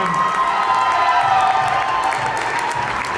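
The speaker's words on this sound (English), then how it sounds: "give them a round of applause one more time" An audience at a bodybuilding championship men's physique evening show applauds and cheers loudly, with whoops and shouts over a steady roar of clapping.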